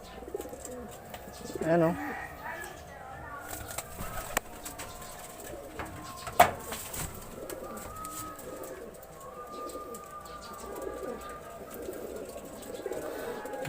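Racing pigeons coo softly and repeatedly in a loft setting, low and rounded, with a voice speaking briefly near the start, a few sharp knocks, and a faint steady background hum.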